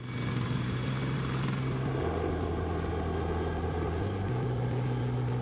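A large US military helicopter thrums steadily nearby, its deep rotor drone and engine whine continuous and loud with no voices.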